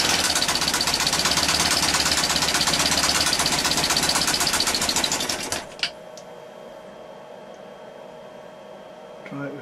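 A Nipsa 7.5 OHV four-stroke outboard engine running near the microphone with a steady, rapid chugging, then cutting out abruptly and leaving quiet background with a few faint knocks.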